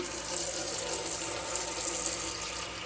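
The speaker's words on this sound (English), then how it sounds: "So we're going to get our gallon pitcher and get it filled" Tap water runs steadily into a gallon pitcher, a continuous, moderately loud rushing splash with no breaks and no talking.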